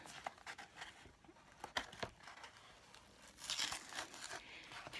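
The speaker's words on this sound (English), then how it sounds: "So if you peel off the tape," Tape peeled off the back of a cheap framed wall art piece, heard as faint, close tearing and crinkling rustles in irregular bursts, with no talking.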